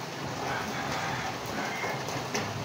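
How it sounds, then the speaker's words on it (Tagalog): Rain that has fallen all night patters steadily outside, a soft continuous hiss with faint scattered drips, fairly quiet and unbroken. "Isang gabi na itong ulan, magdamag na."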